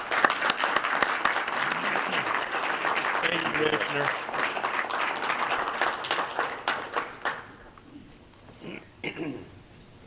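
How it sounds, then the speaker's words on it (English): Audience applause at a transportation conference session in Austin, Texas, welcoming a congressman, loud and sustained for about seven seconds before tapering into scattered claps, with a voice talking over it. "A round of applause."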